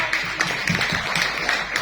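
An audience at a geology book launch applauds: a dense, continuous wash of many hands clapping, steady and fairly loud throughout.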